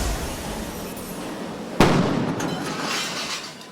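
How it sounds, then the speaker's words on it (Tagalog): A sharp loud bang cuts through the steady crackle and roar of a burning house in Santa Mesa, Manila, followed by a lingering rumbling wash of fire noise. "Dinig ang malakas sa pagsabog habang nagbabaga ang sunog sa NDC Compound 1"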